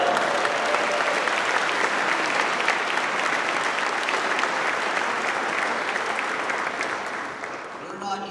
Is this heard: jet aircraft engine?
no